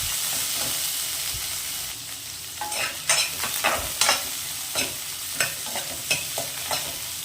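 Two tomatoes fry in a pan for peanut tomato chutney with a constant sizzle, while a spoon stirs and scrapes them in repeated sharp strokes that grow more regular toward the end.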